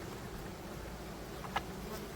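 A steady, dense buzzing of many honeybees close by at a hive, a low droning hum with a single bee briefly passing nearer.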